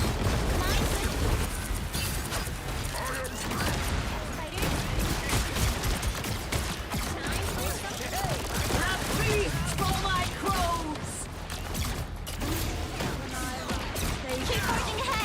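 Bombs dropping and exploding in Helldivers, a continuous loud barrage of blasts and rapid gunfire packed together with no pause, with voices over the chaos.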